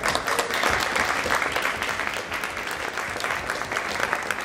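Crowd applause at an awards ceremony for a Hot Wheels collectors' event, a close, steady wash of many hands clapping for about four and a half seconds with no talking.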